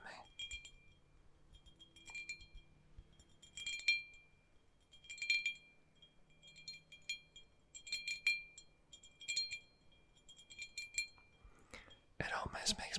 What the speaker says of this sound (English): Sometimes I love the sound of glass